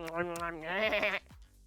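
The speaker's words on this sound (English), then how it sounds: "It's a confused goat because it thinks it's a fish." A goat gives a single wavering, drawn-out bleat at close range, loud and clear, followed by a short quiet tail.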